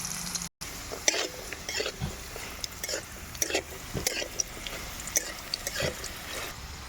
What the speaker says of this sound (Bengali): হলুদের গুঁড়ো, আলুগুলো আমি লাল লাল করে ভেজে নেব